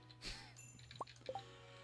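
Watering crops with a watering can in the farming video game Stardew Valley: a few faint, separate droplet plips and a soft splash over a quiet low hum, with no talking.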